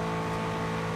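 Sustained engine roar of a racing car in Forza Horizon 2, steady and loud at high revs on a street circuit along the Promenade des Anglais, with no voices over it.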